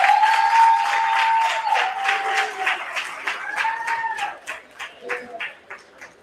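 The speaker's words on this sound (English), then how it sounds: "Once again, a round of applause." Audience applause at an entrepreneurial awards gala, a dense burst of clapping from a crowd that starts loud, then thins into scattered claps as it fades out, with a voice over it.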